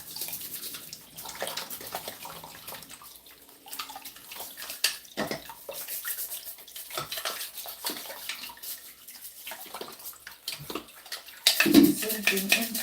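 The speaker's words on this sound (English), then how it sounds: "I like to do it under running water." Tap water runs steadily while a juicer sieve is brushed and rinsed under it, with splashing and scrubbing that swell louder near the end.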